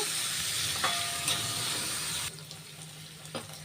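Vegetables, then tomatoes to follow, frying in a pan give a steady broadband sizzle with a few small pops, loud at first and then dropping to a softer crackle after a couple of seconds.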